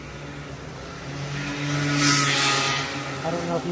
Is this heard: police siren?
no